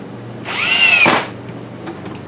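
A power drill drives a screw into a wand handle in one close, loud whirring burst lasting about half a second, ending with a sharp clunk, followed by a few faint taps.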